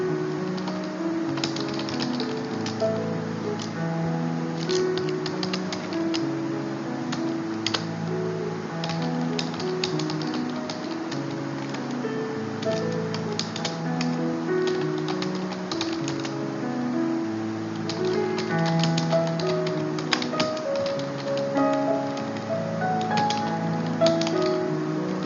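Steady, rapid typing on a computer keyboard while writing a document in MS Word. The clicking goes on without a break, close and even, with no voices.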